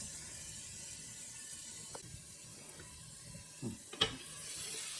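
Prawns frying under a lid in a pan give a faint, steady sizzle with a few soft pops and clicks near the end.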